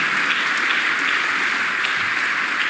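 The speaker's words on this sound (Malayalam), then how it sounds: "ഈ ദേവാലയത്തിലും പരിസരത്തിലുമുള്ള എല്ലാവരും നിറഞ്ഞ ഒരു കയ്യടി നമ്മുടെ സന്തോഷമായി പരിശുദ്ധ പിതാവിന് സമർപ്പിക്കുന്നു" A church congregation of the Malankara Syrian Catholic Church applauding in honour of the visiting Patriarch; full, sustained clapping from a large crowd that fills the space evenly and without pause, no voices.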